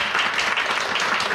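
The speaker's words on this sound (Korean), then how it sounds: "박수 한번 주세요." Seminar audience in Busan applauding at a company presentation, a steady wash of many hands clapping, close and fairly loud from start to finish.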